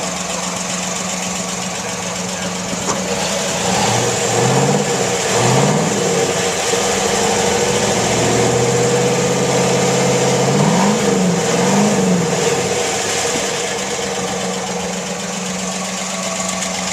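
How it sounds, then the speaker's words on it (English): A 1970 Ford Boss 302 Mustang with stock exhaust idles with a deep rumble, then revs up in a couple of short throttle blips before settling back to idle. "Can you give me a little throttle?"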